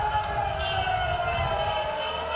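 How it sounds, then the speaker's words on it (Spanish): Air raid sirens wail steadily in Jerusalem, a continuous sustained tone that fills the short span at moderate loudness with a faint crowd-like murmur beneath. "Las sirenas sonaron en Jerusalén"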